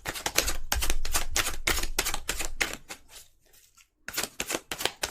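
Tarot cards are shuffled in rapid riffling bursts, crisp and close, running steadily before a short lull and then resuming, with no voices.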